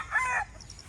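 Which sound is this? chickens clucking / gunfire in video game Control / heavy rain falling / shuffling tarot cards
chickens clucking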